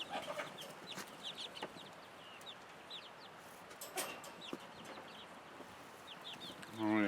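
Young chicks being moved into a fresh brooder peep and cheep repeatedly in short, high chirps over a soft rustling background, fairly faint and close, with a louder handling noise at the end.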